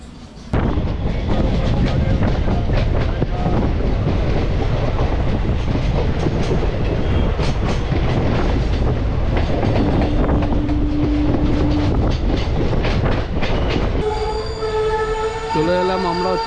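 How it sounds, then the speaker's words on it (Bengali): A local train on the line from Sealdah to Darjeeling running along the rails, with loud continuous rumbling, rapid clickety-clack and rattling heard from inside the carriage for the whole stretch. Near the end a brief tonal squeal and a shift in the noise come through. "আর এই সালার থেকে ছেড়ে দিল আমাদের ট্রেন"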